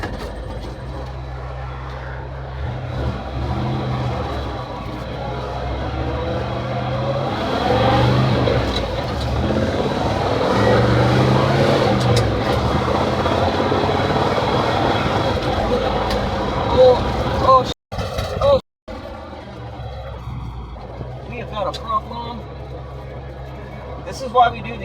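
An old farm Ford truck that sat for years rumbles along on a test drive, its engine and rough road noise droning steadily throughout, with brief dropouts near the end and people talking over it.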